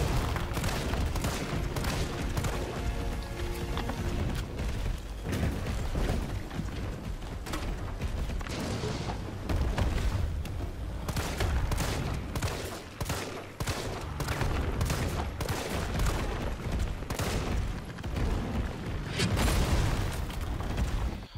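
Sustained gunfire pelts a building in Resident Evil 3, dense bursts of rapid shots and heavy impacts running almost nonstop and loud throughout, with mechanical clatter mixed in.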